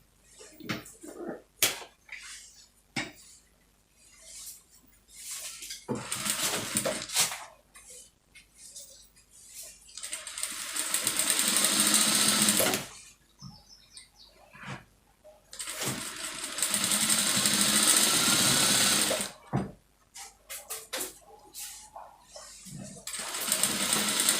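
A sewing machine stitches the lining of a lace top in two long, steady runs, separated by quieter stretches of handling and short mechanical clicks.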